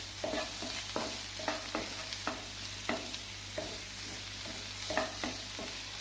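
Curry leaves dropped into sautéed tomato crackle in the pan beneath a constant sizzle, while a spatula scrapes and stirs in steady, repeated strokes at close range.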